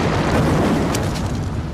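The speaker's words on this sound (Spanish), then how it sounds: "La explosión fue muy grande" Massive underwater explosion from a Russian nuclear submarine disaster, a loud, sustained, rumbling roar with a dense low-end boom that fills the whole moment without letting up.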